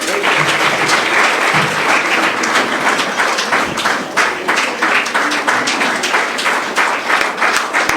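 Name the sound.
audience applause at a felicitation ceremony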